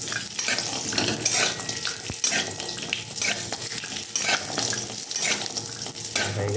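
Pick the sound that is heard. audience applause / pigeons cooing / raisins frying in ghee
raisins frying in ghee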